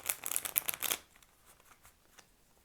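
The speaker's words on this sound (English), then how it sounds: "one more shuffle and we'll get started." A deck of cards riffles in a quick, crisp burst for about a second, followed by faint soft handling noises.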